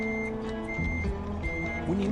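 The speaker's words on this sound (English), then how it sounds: "Here's a forklift." A forklift's reversing alarm sounds in steady, evenly spaced high beeps over a low idling engine rumble, clear and fairly close.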